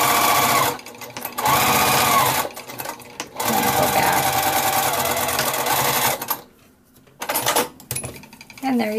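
A sewing machine stitches a child's simple drawstring backpack, running in loud rapid mechanical bursts with brief stops between runs, and a voice is heard around the stitching.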